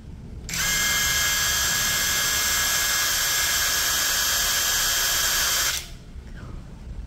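A DCK KDPL03-14 cordless brushless impact driver spins free at high speed, a loud steady high-pitched whine that starts abruptly, holds for about five seconds and then cuts off.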